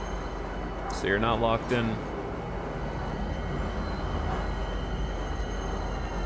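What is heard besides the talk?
tram running in video game Star Citizen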